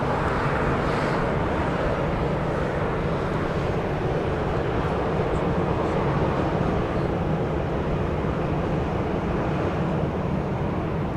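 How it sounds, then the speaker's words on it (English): A Boeing 737-800 arriving from Sacramento touches down at Dallas Love Field, a steady, even jet roar from some distance that holds without pause. "the arrival of Flight 4914 from Sacramento, just about to touch down"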